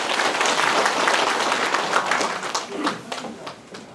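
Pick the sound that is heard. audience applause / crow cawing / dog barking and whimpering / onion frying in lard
audience applause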